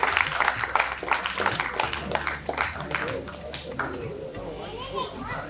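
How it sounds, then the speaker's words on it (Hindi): An audience at the Swasthya Sansad 2024 health event and kavi sammelan in Ayodhya claps in dense applause that gradually thins out, with voices mixed in. "जोरदार तालियों के साथ आप स्वागत कीजिए।"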